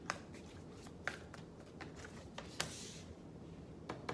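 A deck of tarot cards being shuffled by hand, giving quiet, close riffling and flicking with a few sharper snaps spread across a few seconds, no talking.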